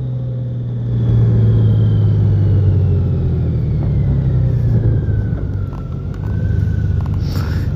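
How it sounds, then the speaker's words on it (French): A 2021 Honda Gold Wing 1800 DCT motorcycle with a flat-six engine gives a loud, smooth, steady rumble that swells after the first second and holds with a slowly shifting pitch. "Et surtout ce flat 6, on s'en lasse jamais. Ah là là, c'est vraiment du bonheur ce bruit."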